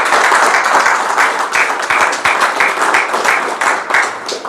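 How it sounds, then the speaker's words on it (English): An audience at a football cup launch event gives a loud, sustained round of applause, dense clapping rolling on without a break. "Can we give them a round of applause?"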